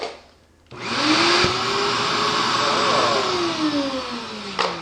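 A shop vacuum runs with a strong, steady roar, a brief sucking surge partway through as it pulls in a bag, then keeps droning close and loud to the end.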